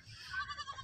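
A white Barbari goat gives a brief, thin bleat at a livestock market, faint and short against low background noise.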